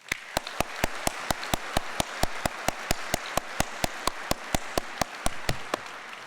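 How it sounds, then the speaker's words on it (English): Sparse, evenly spaced single claps ring out at a convocation ceremony, one sharp hand clap roughly every quarter second in a large hall, with little crowd noise around them. "Please join me in thanking these amazing individuals through a huge round of applause"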